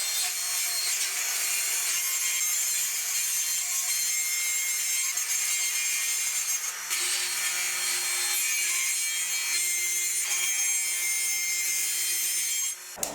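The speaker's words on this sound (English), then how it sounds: "And then you wanna rip it to the thickness of your table." A table saw rips a strip of wood, with a continuous loud blade whine and cutting rasp through the whole stretch and a small shift in pitch midway as the feed changes.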